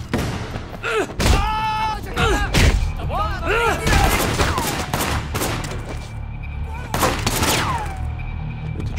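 Rapid gunfire from the action game Sleeping Dogs, loud bursts and single cracks repeating throughout amid thuds, impacts and whooshing effects, with no talk over it.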